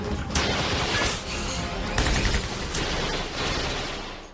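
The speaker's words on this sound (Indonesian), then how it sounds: "Tommy sudah siap dengan senjatanya, dan langsung memberondong Devon." Rapid burst of automatic gunfire in a film shootout, a man opening fire on another at close range, sustained crackling volleys with sharp peaks over several seconds.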